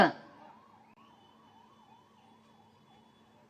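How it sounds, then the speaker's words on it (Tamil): A 108 ambulance siren wails in a steady rising and falling pattern, faint and distant, after a brief loud burst at the start. "இதோ நம்ம ambulance one not eight ambulance போது பாரு"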